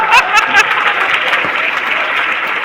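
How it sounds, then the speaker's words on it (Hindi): An audience claps for themselves in a brief burst of dense applause with a few sharp claps at the start, mixed with light chuckles. "देखो खुद के लिए कैसे तालियां बजा रही हैं।"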